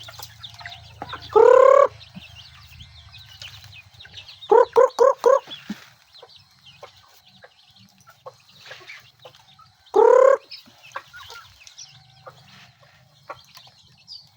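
Backyard chickens fed corn in the late afternoon let out clear, near clucks and squawks in three separate bursts, the middle one a quick run of four calls, with quiet rustling between them.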